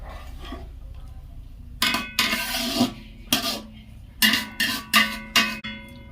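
A spoon scrapes and clanks against a metal pot while 500 g of Gobindobhog rice is stirred with cashews, raisins and peas for egg dum pulao. About seven sharp, close strokes come in an uneven rhythm after a quiet start.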